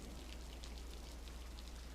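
Rain falls steadily during a storm, a soft, even patter of drops spread across the whole clip, quiet and continuous with a low hum beneath it.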